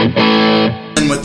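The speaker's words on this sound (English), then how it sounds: "here's the overdrive tone of just the full drive" Full drive overdrive pedal on an electric guitar sounds two distorted strums, a sustained saturated chord ringing for about half a second, then a second bright, gritty chord attack, loud and close with no talking.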